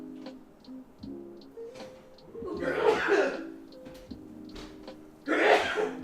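Two abrupt sneeze-like bursts indoors in a kitchen while pan pizzas bake, the first near mid-clip and a second, louder one at the end, over faint ticking and low background hum.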